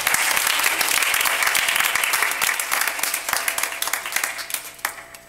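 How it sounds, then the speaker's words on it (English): A church congregation applauds loudly and fills the room with dense clapping. The clapping thins into scattered claps as it fades toward the end. "So let's give them another round of applause."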